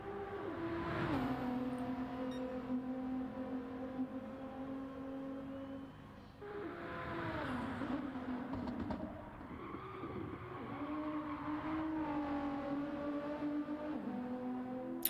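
GT3 race cars in a racing video game rev and accelerate through the gears, with engine pitch rising and dropping again and again. Several cars can be heard over a steady background of track noise.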